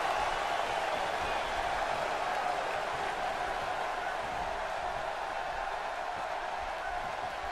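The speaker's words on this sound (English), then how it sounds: "the crowd getting behind him." A video-game wrestling arena crowd from WWE 2K17 keeps up a continuous, even roar of cheering throughout, with no distinct peaks and no clear speech.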